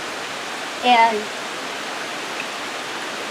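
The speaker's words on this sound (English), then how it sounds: "wow, the rain's really kicking up." Steady rain pours down just outside a covered porch, a broad even wash of noise that continues for the whole stretch, with one brief word spoken over it.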